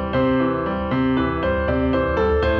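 Piano arpeggios played with uneven timing, the way a beginner plays them, with notes rolling out in repeated broken-chord groups, close and moderately loud, with no voices.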